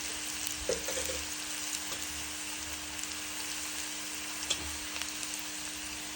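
Cumin and mustard seeds sizzle in hot oil in a pan beside reddened onions for a sprouted moong bean curry, a steady broadband frying hiss with a few sharp pops and spatula taps.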